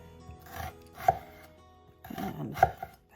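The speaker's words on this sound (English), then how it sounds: "I start to angle my knife following the shape of the onion" A knife dicing an onion on a board, a few separate close chopping strokes in two short clusters with quiet scraping between them and no voices.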